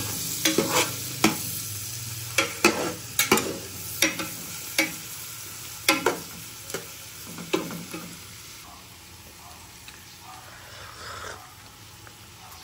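Garlic and beef fry in a pan for beef mechado, stirred with a run of sharp, regular utensil scrapes over a continuous sizzle that quiets toward the end.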